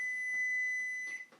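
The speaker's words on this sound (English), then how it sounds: "Oh, that's my timer." A kitchen timer gives one steady, high-pitched electronic tone lasting just over a second before cutting off, fairly faint in a quiet room.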